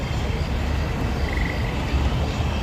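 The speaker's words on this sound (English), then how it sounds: "I hear crickets and frogs." Night chorus of crickets and frogs calling steadily outdoors, a dense continuous trill and croaking bed with faint distant traffic hum beneath, no talk.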